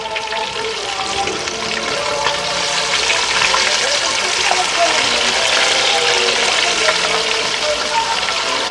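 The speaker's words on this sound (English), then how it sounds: "What he's doing now is putting the smelts in, and he's going to be frying them." Smelts frying in hot oil while a Seven Fishes dinner is cooked, giving a steady, loud broadband sizzle that hisses continuously with a voice faintly present underneath.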